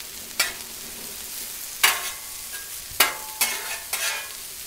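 Onions frying on a Blackstone griddle get stirred with a spatula: four sharp scraping strokes over a steady close sizzle, with no talking.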